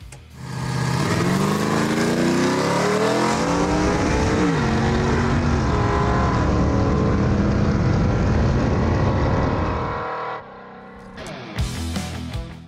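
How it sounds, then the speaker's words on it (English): A 1977 Ford Granada sleeper's engine revs hard with its exhaust cutouts open, a loud, raw, continuous roar that climbs and sweeps in pitch for about ten seconds before dropping off abruptly. "we're ready to open up our exhaust cutouts for a major horsepower increase"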